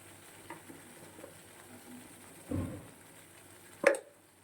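Spiced spinach chicken (palong chicken) with salt, turmeric and chili powder is sautéed hard over high flame, a low frying hiss broken by a couple of louder scraping stirs near the end.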